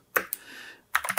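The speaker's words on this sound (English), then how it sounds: "as I'm typing this, it makes me feel like I'm sitting in an old school press room at a newspaper" Keys clack on a neo-retro mechanical keyboard in two short bursts of sharp, close taps separated by a brief hum, with no voice.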